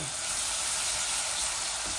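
Chilli, ginger and garlic spices sizzle steadily in a hot wok, a dense, even crackling hiss that stays loud and close throughout with no talking.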